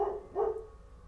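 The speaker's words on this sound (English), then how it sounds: "The dogs were barking at something else." Dogs barking outdoors on a foggy night, two short bursts fairly near, the second louder, with a faint background hum between them.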